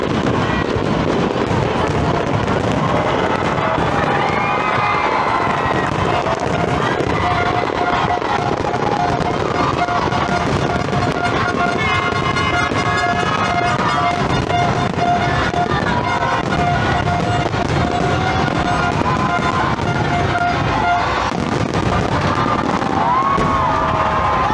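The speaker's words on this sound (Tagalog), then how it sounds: "Pero iba nanonood pa rin ng fireworks display." A New Year's fireworks display at MOA (Mall of Asia) during the countdown crowd, with a continuous dense crackle and rumble of bursts filling the air, distant whistles and a steady outdoor wash of noise.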